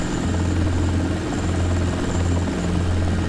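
A simulated helicopter fitted with fixed floats lifts off over a harbor in a desktop flight simulator game, its rotor and turbine a loud, steady, continuous drone with a low thrumming hum throughout.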